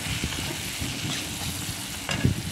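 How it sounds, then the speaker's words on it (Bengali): Onion frying with turmeric and cumin powder in a pan gives a close, dense, steady sizzle with faint stirring scrapes throughout, no voices. "তারপর হলুদ আর জিরে গুঁড়োটা দিয়ে ভালো করে কষিয়ে নিই।"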